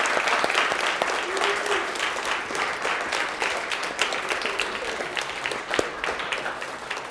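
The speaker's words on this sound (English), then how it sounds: "So a round of applause for Brandon." Campus audience applauding for Brandon, sustained dense clapping with a few whoops and cheers scattered through, steady and close, with faint voices mixed in.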